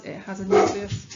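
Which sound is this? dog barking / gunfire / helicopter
dog barking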